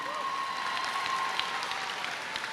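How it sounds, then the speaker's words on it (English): An audience breaks into sustained applause at a speaking event, many hands clapping in a steady dense patter that holds even for the whole stretch, with no speech over it. "Please give them a big round of applause."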